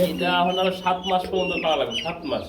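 A rooster and three hens offered together as a laying package cluck in short, choppy bursts, mixed with and partly under close conversational voices throughout.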